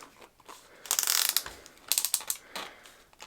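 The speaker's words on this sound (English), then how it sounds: "It's almost just like the ratcheting that you would get from tightening a bit down" A power tool's ratcheting clutch clicks as a bit is tightened down, giving a close, loud burst of rapid clicks followed by a few shorter, quieter clicking runs, with no talk.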